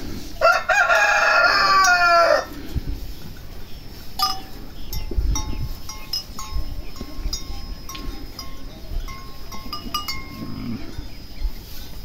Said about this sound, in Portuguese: as galinhas estavam beliscando as unhas do borrego